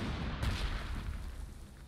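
An anti-tank gun fires in the strategy game Panzer Corps 2, a single loud, muffled boom at the start that rumbles and fades over a couple of seconds of low battlefield noise.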